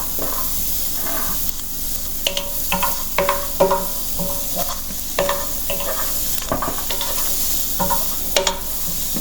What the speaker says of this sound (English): This is the garlic, then the ginger, and keep sauteing it till it is nicely cooked.